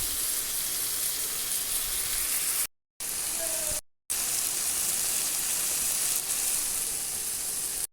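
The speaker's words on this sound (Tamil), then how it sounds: "தூதுவளையை சேர்த்து ஒரு 10 நிமிஷம் வதக்கி எடுத்துக்குவோம்" Steady sizzling from a hot pan as thoothuvalai (Solanum trilobatum) leaves sauté with onion and tomato, a dense crackling hiss broken by two brief silent gaps.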